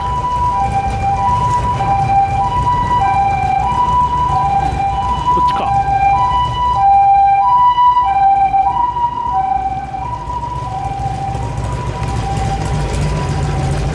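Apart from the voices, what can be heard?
ambulance siren passing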